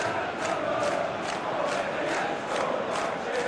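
A stadium crowd roars and cheers in a football video game simulating a World Cup match, a dense, steady wall of massed voices with rhythmic swells.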